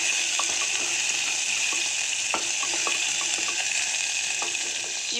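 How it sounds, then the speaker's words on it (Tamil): Onions saute in a hot pan with a dense, even sizzle, broken by light stirring clicks and taps throughout, close and steady with no voices. "இப்போது வெங்காயம் வதங்கிருச்சு."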